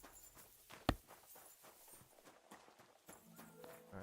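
In the video game Kingdom Come, a single sharp hoof-like knock rings out, followed by soft, irregular horse clopping steps over a faint ambient background.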